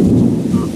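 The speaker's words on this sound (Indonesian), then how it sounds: "Petirnya ngeri pun." Thunder from a darkening storm over a flooded river fishing spot rolls as a brief, loud, low rumble that fills the air without any voices.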